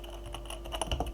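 Quick keystrokes on a computer keyboard as a command is entered in a terminal, a short run of close, fairly quiet clicks with no talk.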